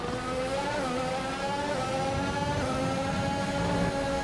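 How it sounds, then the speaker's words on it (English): A rough-running racing car engine in a video game drones with an uneven roar, its pitch wavering slightly as it holds speed, loud and continuous with no talking. "you can hear that engine rough"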